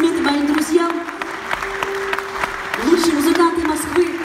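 Audience applause after a song at a concert in Moscow, steady crowd clapping throughout, with a sustained sung or played tone and voices over it.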